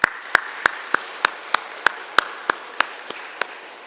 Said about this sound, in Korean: 영광과 감사의 박수 올려 보내겠습니다